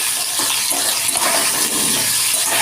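Potatoes frying in a cumin and bay leaf tempering while being stirred, giving a steady, loud sizzling hiss with faint scraping movements mixed in.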